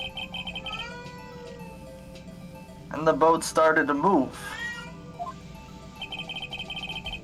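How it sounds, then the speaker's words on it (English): A cat meows loudly several times in a row, with drawn-out rising and falling calls in the middle, under a distant tonal ringing and a voice speaking. "Bailiff, get the cat out of here!"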